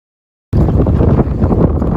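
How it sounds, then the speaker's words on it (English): Strong wind gusts over a New England lake buffet the microphone during a kayak bass fishing tournament, bursting in abruptly after a brief silence as a loud, continuous, rumbling roar. "pretty windy out here."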